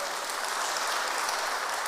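Congregation at a Kikuyu church service clapping for Jesus, a dense, even burst of many hands applauding together at moderate level, with no pauses across the short stretch.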